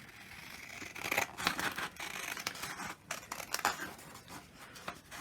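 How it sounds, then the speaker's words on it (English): Big scissors snip and crunch through material in a few irregular bursts, close by, with rustling and crinkling between the cuts and no talking. "what I'm going to do next is I'm going to get some scissors"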